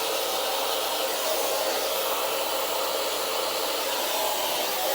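A Dyson hair dryer blows steadily and loudly for the whole stretch, an even broadband rush of airflow with no voices over it.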